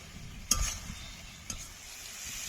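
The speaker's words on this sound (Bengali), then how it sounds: "ভেজে রাখা আলু আর ফুলকপি দিয়ে দেব। মশলার সাথে ভালো করে কষে নেব।" Fried potatoes and cauliflower are stirred with spices in a pan for a rui fish curry, giving a soft sizzle broken by two sharp scraping stirs.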